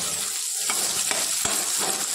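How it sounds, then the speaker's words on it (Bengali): Onions fry loudly in hot oil for a jackfruit masala, a dense continuous sizzle with a few sharp crackles and stirring taps. "পেঁয়াজটা ভাজা হতে থাক।"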